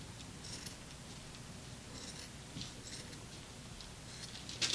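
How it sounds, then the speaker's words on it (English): Regular scissors cutting through machine-knitted cardigan fabric, a series of faint crisp snipping strokes in an irregular rhythm, close and quiet in a calm room, with a sharper snip at the end. "I'm just going to cut with a regular scissor."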